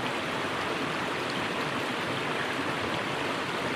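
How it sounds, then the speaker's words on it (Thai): Santa Thaen waterfall flowing, a steady, dense rush of falling water that stays loud and even throughout with no voices. "คลิปนี้ผมจะพาทุกท่านไปชมน้ำตกซันตาเถนครับผม"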